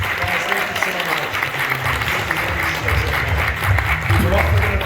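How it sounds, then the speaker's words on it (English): An audience at a fan convention panel applauding, a loud sustained burst of many hands clapping close by, with a few voices mixed into the crowd noise. "Everybody, round of applause, please."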